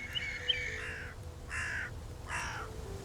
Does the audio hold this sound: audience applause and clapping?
no